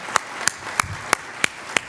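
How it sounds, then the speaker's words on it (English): Evenly spaced sharp claps, six crisp hits about a third of a second apart, sound for a panel at a symposium. The clapping is sparse, more like one or two people than a full crowd. "Can we have a big round of applause for this wonderful panel?"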